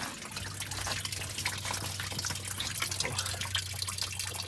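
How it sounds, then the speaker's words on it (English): Coolant drains out of a Detroit Diesel 8V92TA DDEC I engine in a Wanderlodge motorhome, a continuous close splashing trickle of liquid with a low steady hum beneath it. "we're getting the coolant drained out of here"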